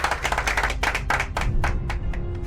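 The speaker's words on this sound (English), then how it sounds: "There was rapturous applause, and the man bowed deeply" Rapturous applause in an audio story, a close, lively burst of clapping that thins toward the end.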